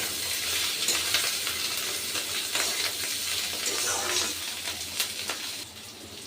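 Bitter gourd frying in a pan with fish roe nearby, a steady broad sizzle running throughout with scattered scraping stirs and small clinks, fairly loud and close, easing slightly at the end.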